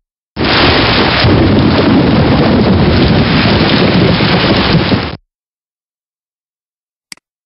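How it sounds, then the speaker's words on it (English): Steady, loud rain with thunder rolls alone for about five seconds during warm spring weather, then cuts off abruptly into silence with one brief click near the end. "Warm, rainy weather helps plants grow."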